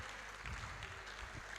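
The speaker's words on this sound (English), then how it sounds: "Keep clapping till she gets here." Audience clapping at a Rotary International youth leadership event, a quiet, steady patter of hands continuing throughout, fairly faint and distant in the room.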